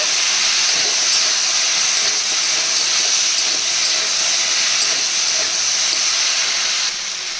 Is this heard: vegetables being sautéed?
yes